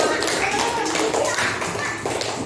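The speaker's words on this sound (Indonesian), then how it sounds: "tepuk tangan untuk kelompok cupang" Students in a classroom clap for a group that presented on caring for betta fish, a lively, uneven burst of hands clapping close by, with a few voices underneath.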